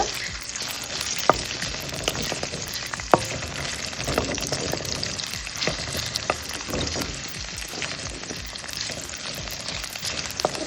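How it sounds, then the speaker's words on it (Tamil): Steady crackling sizzle of ginger, garlic and green chilies frying in hot oil, with occasional sharper pops and stirring scrapes, close and continuous throughout. "இஞ்சி, பூண்டு, பச்சை மிளகாய் இதை போட்டு நல்லா வதக்குங்க"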